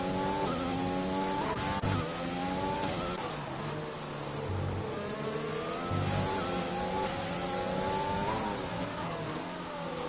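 Ferrari race car in the Grand Prix Legends racing game at Hungary, a loud continuous engine whine rising and falling through gear changes, with brief tire squeal, no voices.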